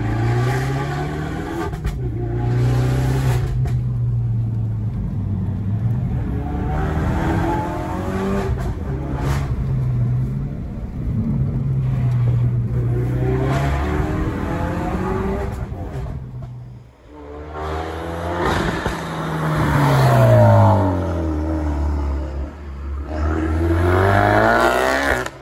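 A tuned Ford Focus RS MK3 turbo engine revs loudly and repeatedly, climbing and falling through sweeping pitch rises with a few short lulls between pulls, heard close and unaccompanied by talk.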